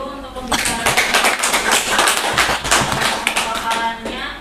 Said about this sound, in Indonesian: Ya, kita beri tepuk tangan dulu untuk pembicara